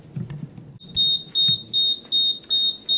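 An alarm beeps in regular bursts, about six loud high-pitched pulses in quick succession, after a brief stretch of low background murmur.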